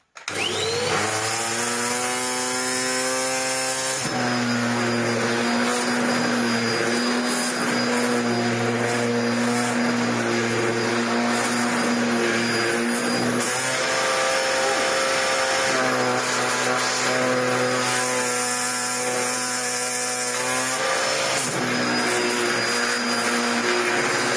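A repaired Dyson DC01 vacuum cleaner runs continuously and loudly, a strong motor whine with buzzing harmonics that shifts pitch several times and briefly dips mid-run before recovering, with no voices over it.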